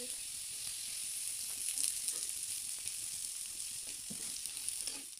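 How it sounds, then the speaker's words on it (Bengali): Quiet, steady sizzle of onions frying in oil, a continuous hiss with soft crackles and light pops throughout. "পেঁয়াজ ভাজা হয়ে গেছে"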